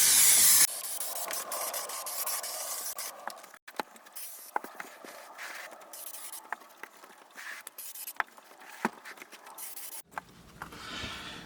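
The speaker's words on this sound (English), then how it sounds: "I'm just going to adhere this on with contact adhesive." Contact adhesive sprays onto 6-ounce wadding or hollow fibre on a storage ottoman lid in a near, continuous hiss, broken by short gaps and small clicks and scratches as the can moves.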